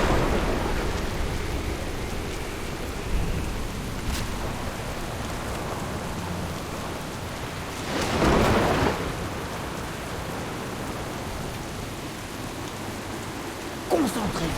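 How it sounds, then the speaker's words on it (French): A video game thunderstorm: steady heavy rain hisses throughout, broken by three loud thunder crashes spaced several seconds apart. "Seigneur, la tempête va bientôt nous emporter!"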